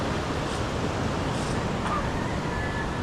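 Steady sea waves wash and roar continuously at close range, a dense uninterrupted rush of surf with no voices, loud enough to break the outriggers of a small boat.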